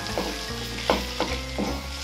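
Chopped tomato and onion masala fries in a pan for paneer butter masala, a soft sizzle with a few spoon-stirring scrapes. Quiet tonal music plays underneath.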